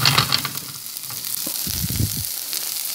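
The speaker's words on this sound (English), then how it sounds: "over here, we've got some hash browns cooking" Hash browns fry in a pan, giving a close, steady sizzling hiss with low bumps and scraping as they are moved about.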